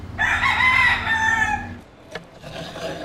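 A rooster in Ybor City, Tampa, crows once, a loud drawn-out call nearby, followed by a short rustle and quieter background sounds.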